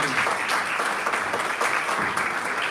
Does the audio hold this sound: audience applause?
yes